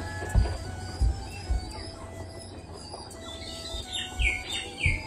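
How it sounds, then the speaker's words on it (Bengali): Several soft chirps and coos from two caged domestic pigeons close by, with a few dull thumps and faint background hum. "খাঁচার ভেতরে যে দেশি পায়রা দুটো আছে"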